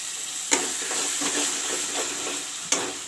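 Tomato puree fries with masala in a hot pan, a steady close sizzle with soft stirring scrapes and two sharp clinks of a utensil against the pan.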